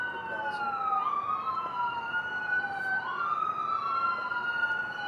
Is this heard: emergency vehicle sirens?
yes